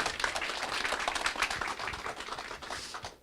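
An audience applauds to welcome a speaker at a Hugh & Company CEO talk, steady dense clapping filling the room for about three seconds before tapering off at the end.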